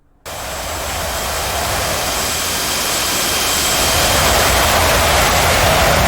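Roaring jet engine of an F-18 Hornet in the DCS flight simulator, a loud, steady broadband rush that starts abruptly and swells slightly, with a thin high whine running through it.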